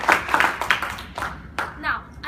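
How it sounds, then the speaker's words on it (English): A few scattered handclaps from a small student Toastmasters club audience acknowledge a speaker, brief and sparse near the start, with talking running over and after them. "can we have a round of applause for him?"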